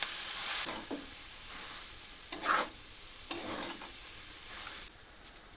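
Minced soybean being sautéed with spices in a pan for a veg momo filling: a low background sizzle broken by intermittent scraping stirs, close and fairly quiet, with no talking.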